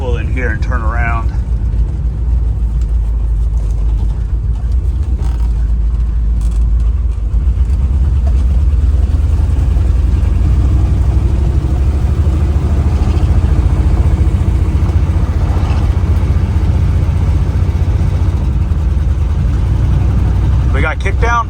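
A 1947 DeSoto Suburban, a rare three-row Mopar in worn condition, drives a short stretch of road, its engine a steady low drone with road rumble held at constant loudness throughout, with no talking.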